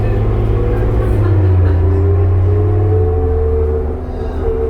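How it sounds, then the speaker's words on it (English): A 2005 New Flyer D40LF diesel transit bus accelerates, its engine giving a loud, steady low rumble with a rising drone heard from on board. "This bus sounds so good."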